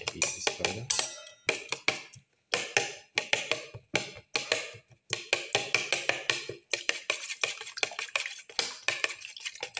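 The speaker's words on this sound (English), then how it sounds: "crush the tomato pieces further" Eggs and tomato pieces for a black pepper ginger omelette being mixed and crushed in a bowl: rapid, close clinking and scraping of a utensil against the dish in bursts, with a few short pauses.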